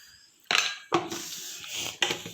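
Metal spoon clinking against a pan as chili powder is added for a dry roasted jawla (dried shrimp) dish, three sharp near clinks with a brief ringing scrape between them, no talking.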